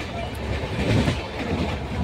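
A passenger train near Secunderabad runs along with a steady rumble and rattle heard from on board, continuous for the brief moment.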